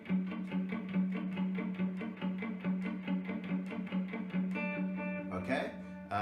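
A fast electric guitar riff with effects for a worship song's second verse, quick repeated plucked notes in a steady rhythm, then a brief sustained chord at the end, loud and close.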